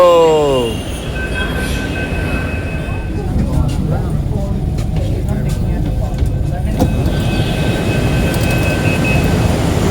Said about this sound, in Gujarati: આ ટ્રેન છે જોઈ, આ ટ્રેન.